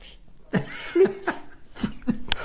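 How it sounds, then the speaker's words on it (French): A few short coughs come in quick bursts, close and fairly loud, with brief gaps between them. "Excusez-moi, ça me fait tousser."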